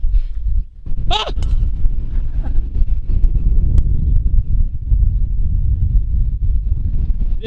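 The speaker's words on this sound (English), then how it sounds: "It is windy as crap out here." Strong gusting wind on an outdoor golf course buffets the microphone in a heavy, continuous low rumble, with a brief sharp noise near the start.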